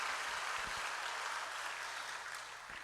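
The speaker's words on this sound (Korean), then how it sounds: "이럴 때는 박수를 하셔도 돼요." A church congregation claps for a choir of more than sixty singers after their hymn, a steady, fairly faint wash of applause that continues evenly from start to finish without any voices over it.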